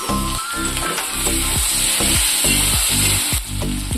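Chopped tomato sizzles loudly in a frying pan with garlic and ginger, a continuous hiss broken by repeated rhythmic scraping strokes of a spatula stirring.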